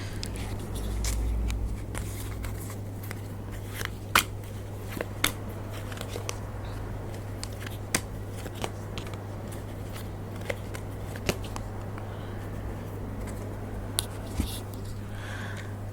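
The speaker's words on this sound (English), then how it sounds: "let's pull some tarot cards on this." Tarot cards being shuffled and handled at close range, with soft papery riffles and scattered sharp taps and flicks over a constant low electrical hum, no voices.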